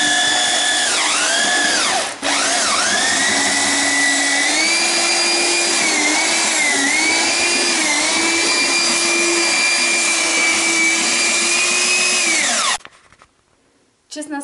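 A power sander works a surface on a home construction job, giving a loud, steady whine that wavers slightly in pitch for about twelve seconds before cutting off abruptly.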